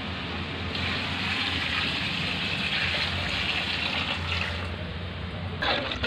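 Water, measured out for a three-kilogram batch of Nellore-style chicken biryani, gushes steadily into a large pot, a continuous close rushing pour that shifts slightly in tone before a short clunk near the end.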